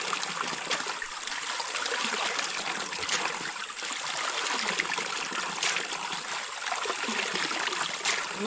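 Spring water flows through a forest in a steady, close, bubbling stream with a bright trickling hiss that continues without a break and with no voices.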